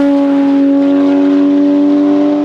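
A Porsche 992 GT3 with a straight-pipe exhaust revs loudly and close, its strong tonal howl holding steady then easing slightly over a couple of seconds, with no voices.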